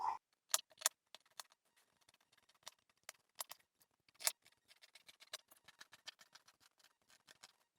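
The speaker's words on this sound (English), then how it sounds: "And then we're going to cut out the pattern." Scissors snip through a paper dress pattern in quick, irregular cuts, close and fairly quiet, with sharper clicks scattered between softer trimming sounds and no talking.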